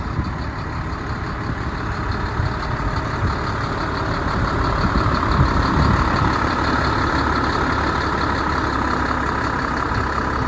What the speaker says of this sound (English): is a nicely operating truck that starts right up